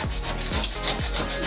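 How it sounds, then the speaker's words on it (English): A Japanese wood chisel scraping at bathroom wall tiles during removal, with repeated short rasping strokes close up, about three in a second and a half. "This is called a wood chisel. Like a Japanese kind of it's"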